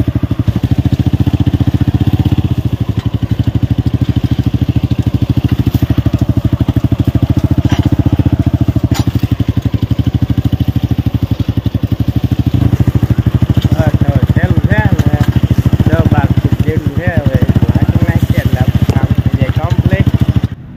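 A homemade jugaad engine vehicle drives through a pigeon pea field, its engine chugging loudly and steadily throughout with a rattling mid-pitched drone, while people talk over it.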